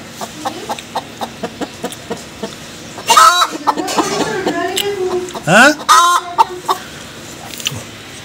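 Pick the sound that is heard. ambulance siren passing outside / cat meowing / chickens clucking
chickens clucking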